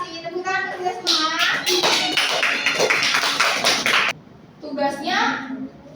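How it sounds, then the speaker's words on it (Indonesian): Students in a classroom clap their hands together in a brisk burst lasting about three seconds, with children's voices and a teacher speaking before and after. "Tepuk tangan untuk kita semua."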